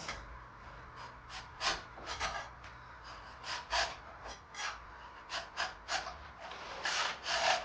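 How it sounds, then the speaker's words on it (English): Thick, apparently unsealed paint is scraped off a wooden table with a hand scraper, giving repeated short rasping strokes in an irregular rhythm, close and fairly quiet, with no talking. "Let's see if I can just scrape some off."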